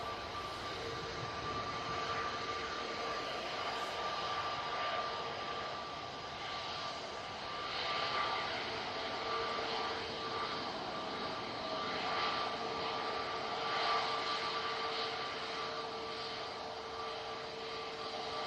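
A TUI Boeing 787-8 Dreamliner rolls for takeoff at Manchester Airport, a distant steady jet engine roar with a faint tonal whine that swells and eases slightly over time, no voices.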